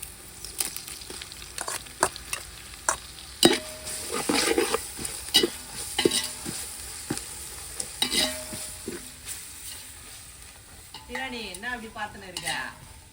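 Onions fry in a pan with a steady sizzle, broken by repeated close scraping and clattering strokes of a spoon stirring them.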